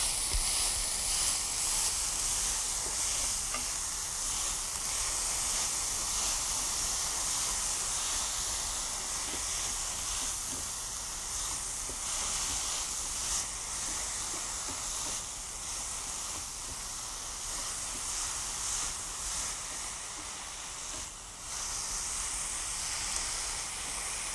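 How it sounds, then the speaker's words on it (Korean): Steady hissing sizzle of ginseng, burdock and green chili japchae stir-frying in a pan with soy sauce, a continuous close broadband fry with faint stirring underneath. "이렇게 볶으시는 중이에요"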